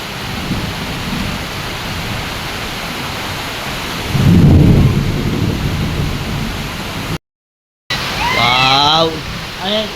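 Heavy rain from a sudden downpour pours in a dense steady hiss, a deep roll of thunder swelling midway, a brief silence, then a voice speaking over the downpour.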